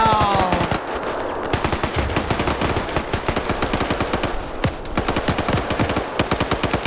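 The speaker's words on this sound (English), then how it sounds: "Grenades going out." Dense gunfire and grenade blasts in a 100-player PvP video game match: rapid machine-gun bursts crackling almost without pause, loud and close, with an opening boom at the start.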